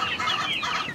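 A dense chorus of chickens, including purebred hens, clucking and chattering together, close and continuous, with overlapping calls filling the whole moment.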